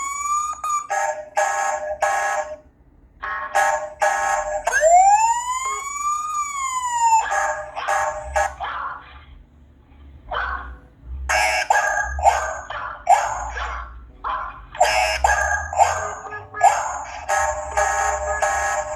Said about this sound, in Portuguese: Vocês viram que no primeiro ficou um zumbido, no segundo ficou outro zumbido, né, mais longo, e no terceiro aqui ficou um som de bip.